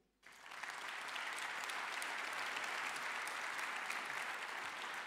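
Audience applause at a French conference on the economy and European crises, starting abruptly and holding as a dense, steady wash of clapping from a full room.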